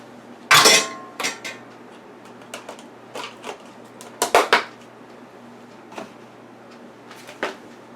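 A metal spoon clatters and scrapes against a pot while collard greens are tossed with sofrito and seasonings, giving sharp, sparse, close clinks over a quiet kitchen hum.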